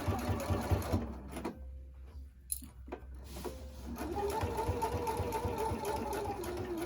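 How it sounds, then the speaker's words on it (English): Close sewing machine stitching down the side of a rectangular fabric face mask with a filter pocket and nose wire, whirring steadily, pausing briefly with a small knock, then resuming in a continuous run. "Alright, so I'm just going to stitch right down there."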